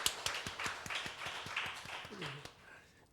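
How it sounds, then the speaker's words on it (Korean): A church congregation clapping to welcome new members, a steady rhythmic round of applause from a small gathering that fades after about two and a half seconds as a voice begins to speak. "박수로 한번 환영해 주시면 감사하겠습니다."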